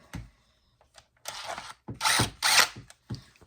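A power driver runs several short bursts, snugging screws into the cover of a Stihl MS261 chainsaw. Four or five brief whirring ratchet pulls sit close by with quiet gaps between them.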